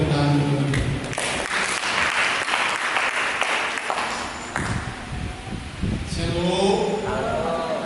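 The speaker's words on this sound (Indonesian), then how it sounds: "Lebihkan tepuk tangan untuk" A church congregation applauds during a worship service, sustained dense clapping filling the room, easing briefly mid-way and swelling again, with a voice rising over it near the end.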